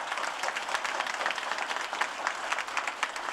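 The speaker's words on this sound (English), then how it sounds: "So a big round of applause for Mike" Audience applause at a governor's bill signing ceremony for sexual assault and human trafficking legislation, a dense, steady crowd clapping that holds evenly throughout without speech.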